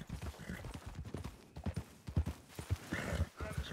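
Horse hooves clip-clop in a roleplay video game, as a quick uneven run of close, punchy hoofbeats mixed with indistinct voices.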